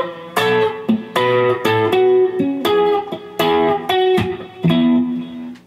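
Measure 107 of a song is played on a clean electric guitar as a short phrase of bright, plucked notes and bends, heard alone with no talk over it.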